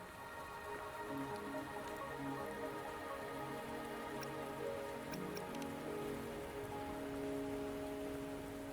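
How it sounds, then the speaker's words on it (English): Rain falls steadily in the game Wuthering Waves, a soft constant patter on surfaces beneath a sustained tonal music bed, with a few brighter drip-like ticks near the middle. "Are you trapped here by the rain?"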